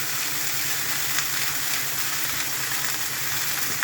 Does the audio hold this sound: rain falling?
no